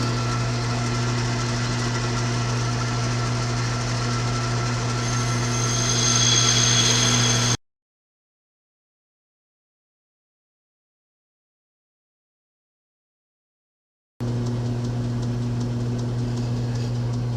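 A metal lathe cuts a camlock chuck back plate, a steady motor hum with a strong low drone and faint cutting noise. It stops abruptly to silence for several seconds, then the same hum resumes.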